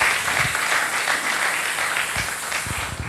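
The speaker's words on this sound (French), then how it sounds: "On acclame le Seigneur." A church congregation applauds the Lord, a dense, sustained wash of clapping from many hands filling the room, with a few louder nearby claps standing out toward the end.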